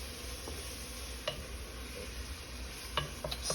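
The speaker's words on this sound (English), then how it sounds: "Alright, continue to mix that in." Chili being stirred in a pot, a steady low sizzle with a few soft spoon scrapes and clicks against the pot, close and continuous with no talking.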